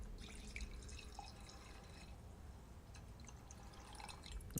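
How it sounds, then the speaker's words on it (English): Freshly boiled water is poured over black locust seeds in a container, a soft continuous trickle and splash with scattered drips, quiet and close, with no voices. "put these in a container, boil some water, and pour that boiled water over top of them"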